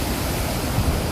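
Gokak Falls roars as a dense, unbroken wash of rushing water, loud and steady throughout the short moment.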